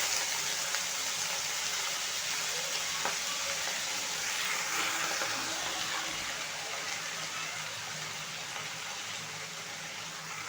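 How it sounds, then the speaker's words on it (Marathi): Fenugreek leaves hit a pan of browned frying garlic and sizzle steadily and loudly up close, with faint stirring underneath for about ten seconds. "लसूण छान ब्राऊन झाली आपली आता आपण मेथी टाकूया"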